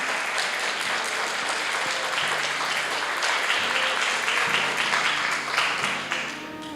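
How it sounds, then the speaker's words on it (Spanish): Sustained applause from a large church congregation during a sermon, dense and steady throughout, easing slightly at the very end. "Está aplaudiéndole al rey. Está dándole el aplauso al rey."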